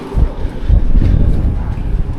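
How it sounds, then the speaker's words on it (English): Strong wind of about 20 miles an hour buffets the microphone at Mandalay Bay Beach in Las Vegas in loud, rumbling gusts, roaring and surging throughout with no voices. "See if you can hear this wind. Hear it? 20-mile-an-hour winds."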